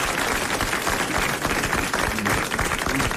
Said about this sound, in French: Vous applaudissez Monsieur Blin de Saint-Michel-sur-Orge.